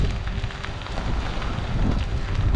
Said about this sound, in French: le vent souffle, ça c'est sûr